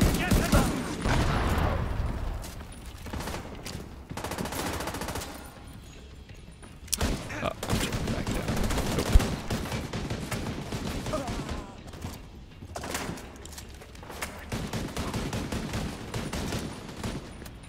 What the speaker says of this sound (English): I see your explosions at least.